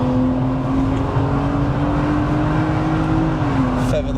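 A tuned 700 bhp BMW M340i engine drones steadily at close range, its tone holding a sustained pitch before dropping slightly near the end, with faint tire noise beneath.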